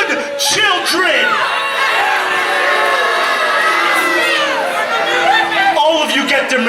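A wrestling show crowd, many of them children, shouts and cheers loudly in a sustained roar with high whoops and scattered laughter rising and falling across the arena.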